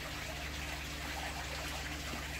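Small waterfall in an acrylic paludarium trickles quietly as a steady, faint wash of running water with no voices.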